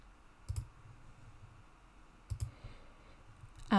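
A computer mouse clicks twice, faint and sharp, about two seconds apart, in a quiet room while working in the WordPress WooCommerce product editor.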